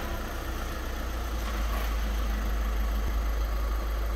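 A twelve-year-old Audi A3 engine idles steadily while warming up before a TÜV inspection, a constant low rumble with even hum and no speech.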